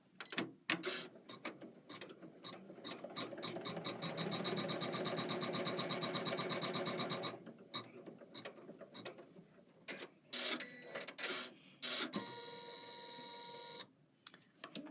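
A home embroidery machine stitches a placement line for a Kimberbell Garden Guild embroidery-by-number bloom, a steady rapid mechanical stitching run for several seconds, then stopping and starting in short bursts with clicks and a brief higher whir near the end.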